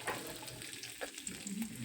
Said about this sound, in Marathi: कढीपत्ता पण तडकला आहे